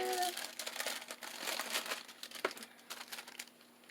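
Wax paper is crumpled and handled for a junk journal craft, giving close, crisp crinkling bursts in an irregular rhythm that continue throughout.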